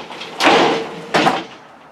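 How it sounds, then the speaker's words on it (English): A sliding glass shower door in a 2020 Palomino Solaire 202RB RV bathroom makes two quick, loud sliding swishes that each end in a soft bump, close by. "you got a nice sliding glass door shower."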